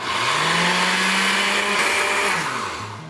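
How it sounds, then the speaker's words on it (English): A powerful blender whirs steadily as it pulverizes nuts for guacamole, the motor holding a loud, even drone that dips in pitch near the end as the load shifts. "If you've got a really powerful blender, it'll do short work of this, no problem."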